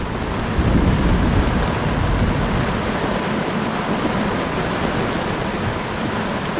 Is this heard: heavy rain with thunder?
yes